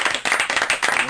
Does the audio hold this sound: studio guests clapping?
yes